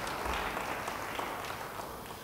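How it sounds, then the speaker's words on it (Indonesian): A church congregation claps at a sermon service, a steady patter of moderate applause heard from a slight distance, continuing evenly for a couple of seconds with no talking over it. "Yang mau beri tepuk tangan bagi dia."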